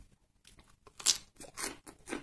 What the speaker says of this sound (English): Still crunchy, but also quite tough.